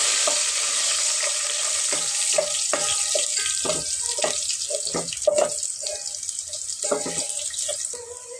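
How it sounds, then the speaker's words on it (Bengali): Two bay leaves with whole garam masala, cardamom and cinnamon, fry in hot oil for a Bengali pulao, giving a bright, steady hiss close by, with soft knocks of stirring scattered through it and no talking. "গরম মশলা এলাচি দারচিনি তো আর একটু ভেজে নিব তেলের মধ্যে ভালো করে"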